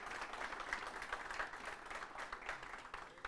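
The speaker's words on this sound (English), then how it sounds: "give him a round of applause, Mr. Jamal Boyd." Audience applause at a student athletic leadership training event in a school, steady and continuous clapping from a crowd of moderate size, heard fairly close throughout.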